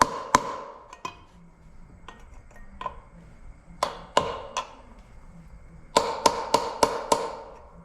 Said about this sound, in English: I got a steel chisel here, hammer.